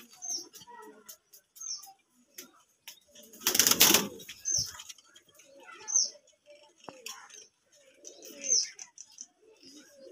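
Pigeons coo softly nearby amid scattered chirps, with a loud burst of flapping wings in the middle and a few quieter rustles and coos afterward.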